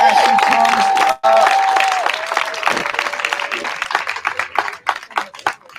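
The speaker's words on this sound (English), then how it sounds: "Start clapping right now as she comes" Crowd at an outdoor bonfire gathering for Black artists clapping as a performer comes up to the mic, loud applause that thins into scattered claps, with a voice over the start.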